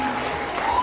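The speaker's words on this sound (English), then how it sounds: "let's hold our applause until the very end" Audience applause at a school awards assembly, a steady dense burst of clapping from a crowd filling the whole short moment, fairly loud and close.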